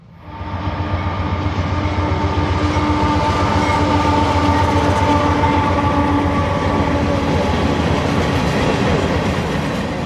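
A freight train of empty rock cars rumbles past steadily with a deep, continuous roar and grinding wheel noise, the sustained tonal drone of its horn blending into the loud passing.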